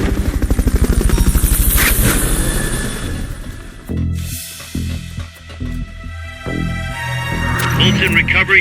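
Helicopter in the video game Metal Gear Solid Peace Walker, a loud rapid rotor throb that fades and returns amid game effects and radio voices.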